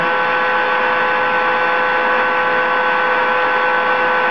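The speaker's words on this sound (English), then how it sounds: "just hit drawing a vacuum on it" A chamber vacuum sealer's pump draws a vacuum with a loud, steady electric drone and hum that holds unchanged throughout, with no talk over it.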